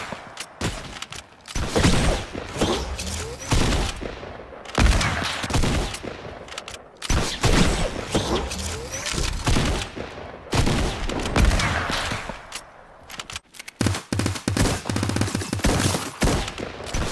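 Rapid bursts of gunfire from a PS4 shooter game, loud and close, firing in repeated volleys with brief gaps between, ending in a steadier rattle.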